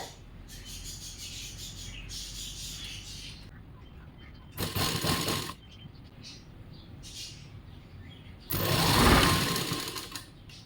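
A sewing machine stitches a blouse front piece in short bursts, two loud, fast whirring runs separated by quieter handling and rustling of fabric.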